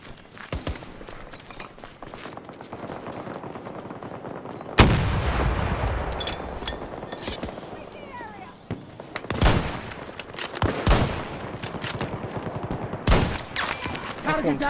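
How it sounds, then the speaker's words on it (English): Gunfire in the first-person shooter Battlefield 2042: loud shots and booming blasts, including a heavy close explosion, over constant battlefield rumble, with distant bursts and footsteps scattered throughout. "Yeah, because that dude's trying to shoot me now."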